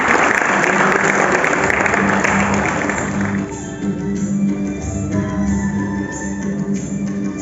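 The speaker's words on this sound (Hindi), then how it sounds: "आप सभी हमारे बच्चों के लिए तालियां बजाकर उनका मनोबल बढ़ाएं।" Audience applauding children at a Haritalika Teej function at Olympus High school, a steady dense clapping that fills the room for about three seconds, then thins into scattered lighter claps under a faint background hum.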